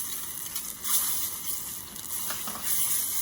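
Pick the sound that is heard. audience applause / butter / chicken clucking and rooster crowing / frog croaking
butter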